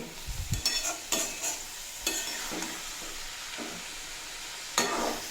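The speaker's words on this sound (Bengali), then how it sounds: "দিয়ে তিন চার মিনিট মতো নাড়াচাড়া করে নেব" Cabbage with slit green chilies is stirred in a pan for a Bengali cabbage ghonto, a quiet sizzle under a few scattered spatula scrapes and knocks, close and with no voices.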